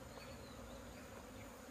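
A swarm of honeybees drones at a freshly dug-out nest, a dense, continuous buzzing that stays steady and close throughout, with no voices over it.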